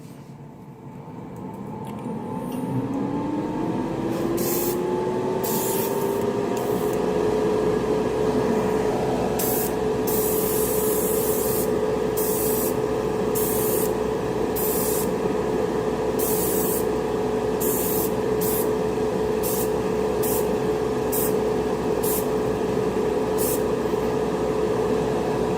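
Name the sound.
workshop extractor fan running during airbrush spraying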